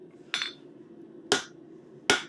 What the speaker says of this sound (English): we are flattening that out by hammering on that back edge